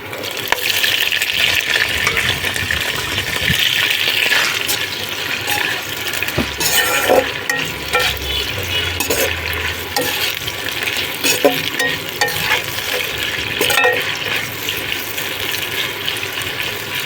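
Chopped capsicum and carrot stir-fried in a pan for paneer pulao, a steady close sizzle with scraping stirs running continuously, no talking.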